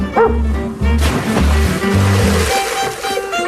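A rescue dog gives a rapid string of deep, close barks and yips, loud and continuous for a couple of seconds before trailing off, over a steady rushing background like running water.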